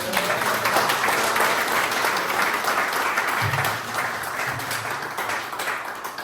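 Sustained applause from an audience at a lawmaker's hometown legislative report meeting in Korea, a dense steady wash of clapping that stays loud throughout and eases slightly toward the end.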